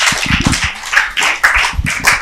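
Clapping from a small audience at a school-supplies handout event run by a foundation, a quick burst of hand claps with speech-like voices mixed in over about two seconds.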